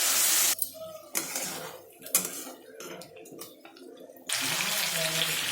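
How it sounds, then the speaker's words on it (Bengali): Spice-rinsing water splashes into a pot of chicken curry with meat and potatoes, a steady pour that breaks into clattering cookware sounds before the pouring resumes. "মশলা ধোয়ার জলগুলো দিয়ে দিই।"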